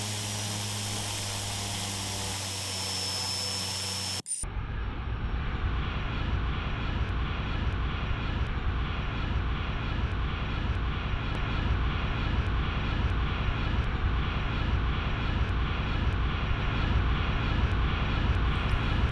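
Aeroplane engines in flight give a loud, steady, close roar that runs unbroken from about four seconds on, after a short, different-sounding opening.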